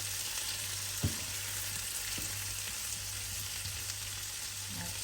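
Parsley and salmon potatoes frying in a pan, a steady faint sizzle with occasional soft stirring scrapes, close up and without talk.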